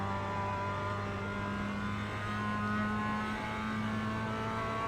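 Mazda MX5 engine at Oulton Park in iRacing, a steady droning engine note held at high revs under acceleration, continuous and close throughout, with no talk.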